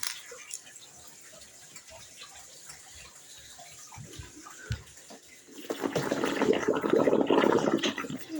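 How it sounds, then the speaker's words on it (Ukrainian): Water runs and splashes over foam, rising to a steady rush in the last few seconds after quieter background sounds, with faint voices around it. "А якщо змити піну водою?"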